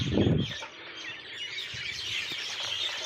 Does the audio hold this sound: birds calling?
yes